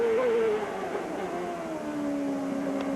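A 1998 Indy car driven by Alessandro Zanardi on a flying qualifying lap at Toronto, on its second set of tyres, its engine whining loud and steady, the pitch sliding gradually down, with faint talk beneath.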